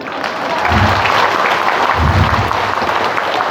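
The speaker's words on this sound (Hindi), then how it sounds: "तो आपको ताली बजाना ही बजाना है" An audience at a marketing skills training event in Kathmandu, Nepal, claps loudly and steadily throughout, a dense close wash of applause with brief swells.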